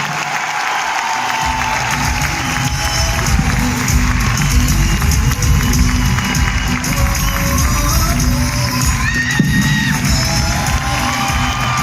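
Loud, dense applause and cheering from a big crowd at a live event fills the whole stretch, with scattered whoops and shouts riding over the steady clapping.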